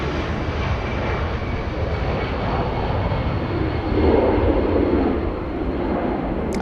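Boeing 767 taking off from runway 24 right at Los Angeles International Airport, a loud, steady jet engine roar that swells slightly midway, heard from a distance with no talk.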